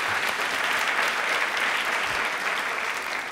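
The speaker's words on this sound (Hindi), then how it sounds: "ताली एक बार बजा दीजिए सही आंसर के लिए" A studio audience at a televised Rajasthani quiz show claps steadily, a dense and loud round of applause that holds for the whole stretch without any talking.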